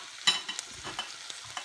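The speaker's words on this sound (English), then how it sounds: "I'm frying up one onion, which I've roughly chopped up, and three rashers of streaky bacon" Quiet frying of chopped onion and streaky bacon in a pan with soft crackles and a few scraping stirs, no voices, fairly close and low in level.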